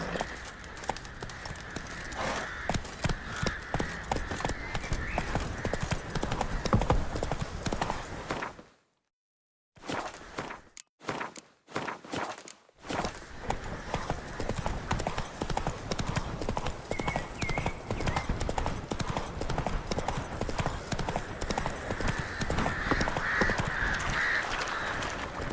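Roach, the horse in The Witcher 3, trots with steady, close clip-clopping hooves that run almost the whole time, broken by a short silent gap near the middle. Faint bird calls sit in the background.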